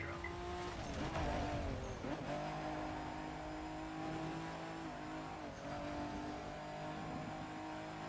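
Car engine revving steadily with rising and falling pitch in a racing video game as nitro boost kicks in, loud and continuous with tire noise, no talk over it.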